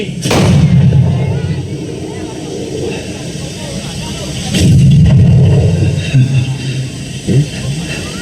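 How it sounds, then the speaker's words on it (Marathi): Two deep, booming cannon blasts with long rumbling tails, heavy and close, the second rolling on for several seconds amid a dense roar, at a historical battle reenactment in Ahmednagar. "आणि एकदाच्या तोफा धडाडल्या"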